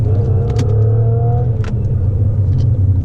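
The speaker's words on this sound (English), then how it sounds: "So floor it from 40, low, and then rev shift." Toyota Camry V6 automatic accelerating at full throttle from 40, a loud steady engine roar and road rumble inside the car with a rising tone, with no talk.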